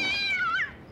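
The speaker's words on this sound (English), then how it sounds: "Here, keep the kitten." A kitten meows once, a clear, close, high-pitched cry that rises and then bends downward before trailing off into quiet.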